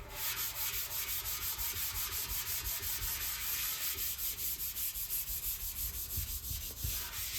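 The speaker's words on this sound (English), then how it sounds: "Get your scuff pad." Painted metal parts being scuffed with a scuff pad, a rapid rhythmic back-and-forth rubbing that stays steady and close throughout.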